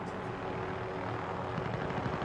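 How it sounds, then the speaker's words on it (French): A helicopter flies in the battle royale video game Call of Duty Warzone, its steady rotor and engine drone filling the whole stretch at a constant, moderately distant level. "Il y a l'hélico aussi en haut à gauche."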